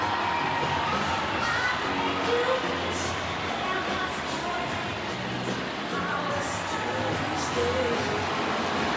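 A Nebraska Husker volleyball arena crowd roars and cheers steadily throughout a match, a loud, dense wall of voices with a commentator talking underneath.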